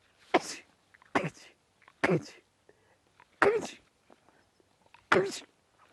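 Five sharp sneezes burst out at roughly one-second intervals, close and loud, from a person during a quiet yoga session, with faint breathing and small movements between them.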